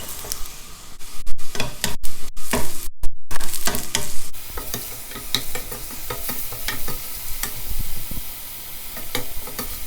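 Mushrooms with sliced garlic and onion sautéing in a pan, a steady sizzle broken by repeated scraping stir strokes, with a few abrupt dropouts early on, close and fairly loud.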